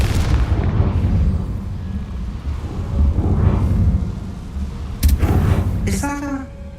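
Confringo fire spell explosion in Hogwarts Legacy, a heavy rumbling blast under ongoing speech, followed by a sharper burst and crackling near the end.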